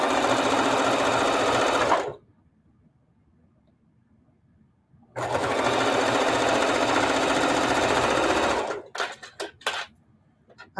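A sewing machine stitching quilt blocks: two loud, steady runs of rapid mechanical whirring, each about three seconds long, separated by a quiet pause and followed by a few short clicks.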